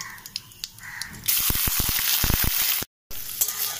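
Soaked aatap rice is tipped into hot oil with bay leaves and whole cumin, and a loud sizzle bursts in after a quiet start. Sharp scraping stir strokes follow, then a brief gap before the frying resumes.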